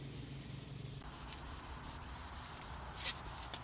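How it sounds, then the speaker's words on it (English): A Scotch-Brite pad rubs quickly back and forth under pressure to weather a part on a 1973 Road Runner 340, a close, continuous scratchy scrubbing with no talking. "we're going to be weathering it with this Scotch-Brite pad"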